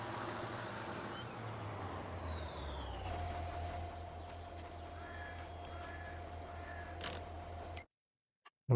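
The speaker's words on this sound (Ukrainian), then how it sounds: "Жу-жу-жу-жу-жу. Працює мотор." A farm vehicle engine idles steadily in the Farming Simulator 22 video game, a low continuous hum with a sustained tone, a falling whine early on and a few faint clicks, cutting abruptly to silence near the end.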